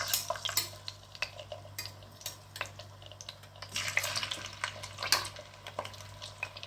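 Shawarma pieces fry in melted ghee and oil in a pan, with steady sizzling broken by frequent clinks and scrapes of a utensil stirring against the pan; no one speaks.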